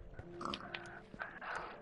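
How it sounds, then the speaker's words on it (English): A pig in a video game gives a few short, soft grunts and snorts close by, quiet and brief. "I hear a pig nearby."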